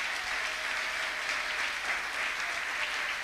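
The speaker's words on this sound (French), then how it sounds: "Est-ce qu'on peut l'acclamer?" A church congregation gives steady, sustained clapping. It is moderately loud and dense throughout, with no clear rhythm and no talk over it.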